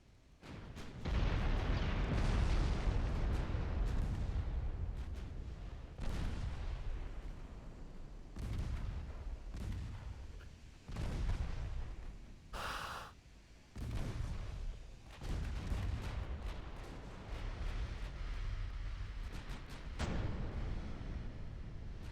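Heavy battleship main guns firing in the naval warfare game Ultimate Admiral Dreadnoughts, a dense run of loud booming salvos that roll into one another, with one sharp crack standing out midway.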